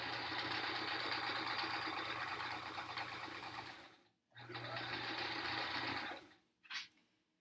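A sewing machine runs close by as it stitches pieces of quilt fabric together. It hums steadily for about four seconds, stops briefly, runs for another stretch, then gives a short final burst.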